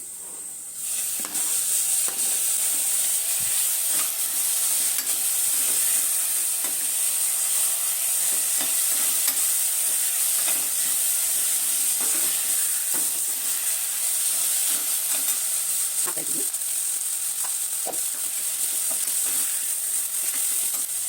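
Tomatoes sizzle steadily in a hot pan with fenugreek leaves, a constant bright frying hiss broken by occasional soft stirring clicks and scrapes, close and continuous with no talk.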